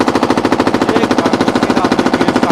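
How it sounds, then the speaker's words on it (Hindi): Indian Coast Guard machine gun firing in a steady, rapid, continuous burst, loud and close, with no talk over it. "लगातार यहाँ पर इंडियन कोस्ट गार्ड की तरफ से फायरिंग यहाँ पर 1800 राउंड फायरिंग"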